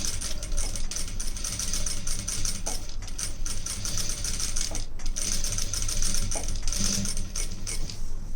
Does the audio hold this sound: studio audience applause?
no